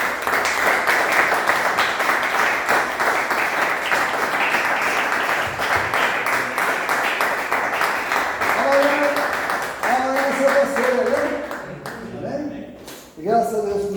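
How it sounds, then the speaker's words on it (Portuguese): A church congregation claps together in a dense, sustained burst of applause that gradually thins out, while a voice speaks over the final stretch. "Então vamos dar uma salva de palmas para o Senhor."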